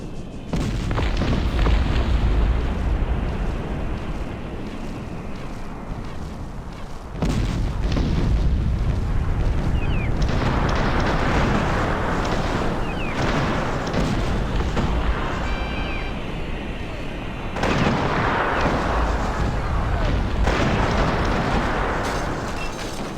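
Artillery fire and explosions from the real-time strategy game Cossacks: Back To War, a steady barrage of loud booms and bursts rolling continuously through a battle, with heavy low rumble and no talk.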